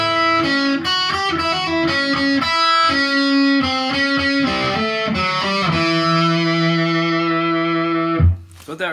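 Electric guitar through distortion playing a riff slowly, choppy picked notes ringing out loud and close before the final chord sustains and is cut off abruptly.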